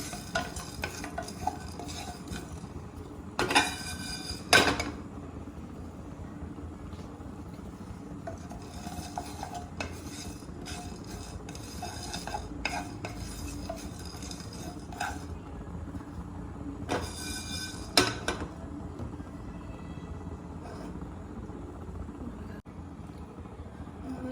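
Cumin and black pepper dry roasting over a low flame, stirred in a pan: a steady, soft scraping and rustling with a few sharper, louder bursts of stirring, no voices.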